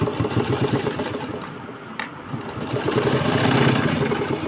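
A sewing machine runs a steady stitch line along a handmade fabric purse, giving a close, continuous whirring hum that dips briefly midway and then resumes.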